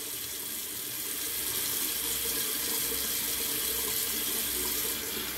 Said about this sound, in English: This cold water rinse.